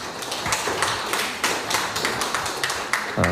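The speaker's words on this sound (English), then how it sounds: "How about a round of applause for the teams?" Scattered, uneven clapping from a small crowd greets competing teams at a fitness games media day, with sharp individual claps standing out close by over a brief stretch.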